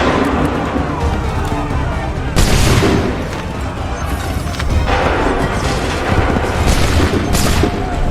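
Musket volleys fired on command in Assassin's Creed 3: loud, heavy bursts of massed gunfire break out in several waves over constant battle noise, with shouted orders between them.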